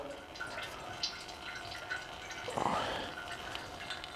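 Engine oil pours from a Ford F-150 into a catch pan, a steady close trickle and dripping of liquid with a brief louder gush partway through.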